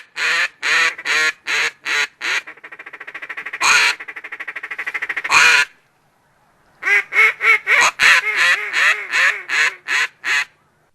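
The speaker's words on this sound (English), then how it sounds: "A duck call is another tool that can be used to bring waterfowl to within shooting range." A duck call blown in a rapid series of short quacks, then a long rattling feed chatter, followed by another run of loud, evenly spaced quacks, at a duck hunt on Sauvie Island.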